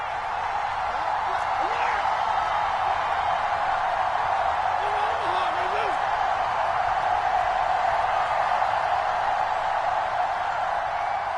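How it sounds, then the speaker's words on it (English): A stadium crowd in a PS4 football video game keeps up a continuous, loud, even roar of massed voices that holds without break or swell from start to finish. "this crowd doing their best to make a lot of racket"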